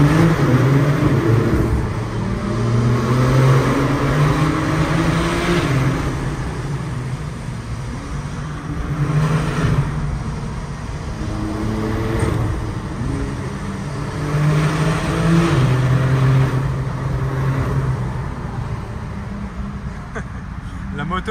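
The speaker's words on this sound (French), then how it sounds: "elles sont réputées, les Porsche Turbo, c'est réputé pour être des missiles sur 4 roues" A Porsche Turbo accelerating hard on roads above Monaco, its engine surging in repeated pulls and rising revs, loud and close, while people talk over it.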